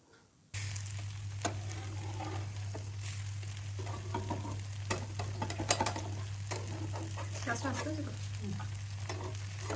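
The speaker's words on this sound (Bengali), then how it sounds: "এবার ওপর থেকে একটু তেল ছড়িয়ে দেবো।" Instant dosa from MTR mix fries on a pan as oil is sprinkled over the top, a steady close sizzle with scattered pops and crackles over a constant low hum, no speech.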